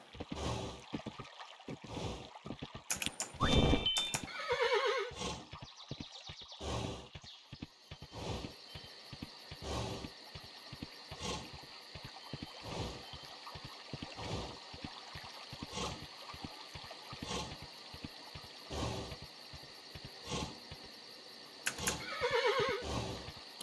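A horse in the video game Kingdom: New Lands whinnies loudly a couple of times amid steady clip-clop hoofbeats and mechanical clicks, with another whinny near the end.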